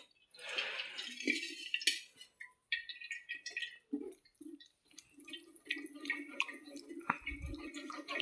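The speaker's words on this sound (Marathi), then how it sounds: "ह्यातलं पाणी सगळं नितळतं." Water trickles and drips in short bursts from a cloth bundle of curd being swirled and squeezed, splashing close by with small pauses between, while making aamrakhand.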